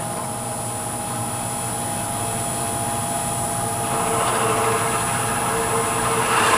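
A wood lathe runs at low speed, around 700 to 800 rpm, while drilling a 3/8 hole into a soft redwood burl Christmas ornament, a steady machine hum that swells slightly louder toward the end.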